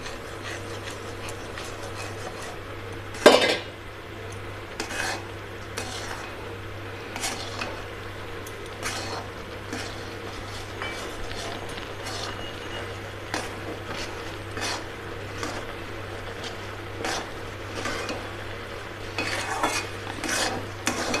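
Rice flour is stirred little by little into boiling water in a pot for chusi pitha, with a soft bubbling hiss, repeated scraping strokes and one sharper knock early on.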